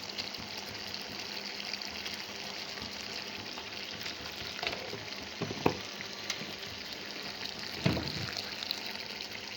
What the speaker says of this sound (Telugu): ఒక 10 నిమిషాలు సిమ్లో బాగా ఫ్రై అవనిద్దాం